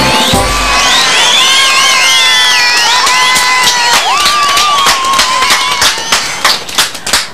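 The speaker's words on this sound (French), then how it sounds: "Quand tout le monde applaudit si fort." A circus audience applauds and cheers after an acrobat act, loud, dense clapping mixed with shrill whistles and excited children's shouts that thin into scattered claps near the end.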